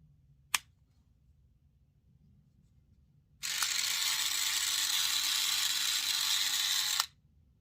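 An Oral-B toothbrush head clicks once into place, sharp and close, followed a few seconds later by a steady, loud electric buzzing that runs for several seconds and then cuts off.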